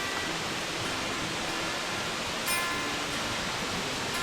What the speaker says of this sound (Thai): ี่คือเสียงน้ำตกนะครับ